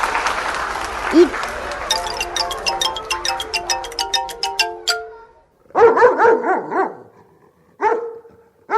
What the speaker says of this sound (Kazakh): ит